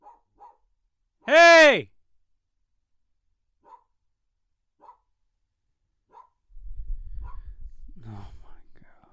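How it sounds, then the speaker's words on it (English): A dog barks outdoors at some distance in short, sharp, widely spaced single barks. A loud shout cuts in early, and a low rumbling noise rises near the end. "that is my grandpa's dog out there barking away"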